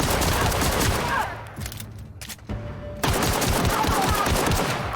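Rapid pistol shots from The Outer Worlds fire in dense, loud bursts that break off into a brief lull around the middle, then resume as sustained close gunfire until the end.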